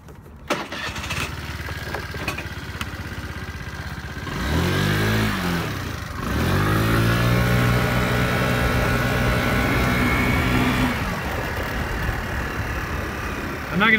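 A Honda Metropolitan scooter starts up, then accelerates in two rising engine sweeps, its small motor whining upward close to the microphone before settling into a steady cruising drone.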